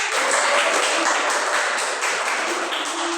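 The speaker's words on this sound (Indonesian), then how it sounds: "tepuk tangan dong Pak Firman" Students in a classroom clap together in a dense, even round of applause that holds at the same level from start to finish, with no talking.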